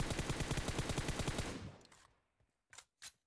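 In a close-range video game fight, a loud automatic weapon fires a rapid, evenly spaced burst of shots for about a second and a half, then fades, followed by two isolated sharper reports.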